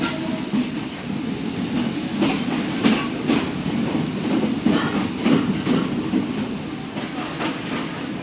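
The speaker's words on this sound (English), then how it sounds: "Once the train got up to any kind of speed, it was clear this was going to be a bumpy ride. A bit shaky and a bit loud." A Sri Lanka express train carriage rattles and clatters steadily on the rails at speed, a loud, continuous rumble with rhythmic clickety-clack knocks heard from inside the car.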